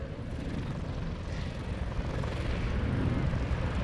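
Propeller airplane engine at an airshow as the plane taxis, a steady droning rumble heard from a distance under open-air ambience, holding at an even level throughout.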